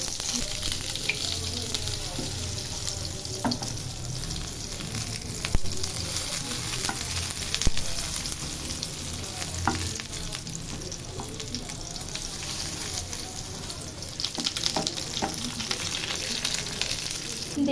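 Pumpkin flower fritters fry in a pan of hot oil with a steady, close crackling sizzle, broken by a few sharper pops and spatters, and no talking over it.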